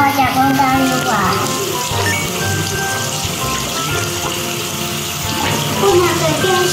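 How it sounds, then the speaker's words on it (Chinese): Tap water runs over hands being rinsed, a steady splashing rush that lasts the whole stretch, with a voice talking over it. "好了，我们要开始冲水咯"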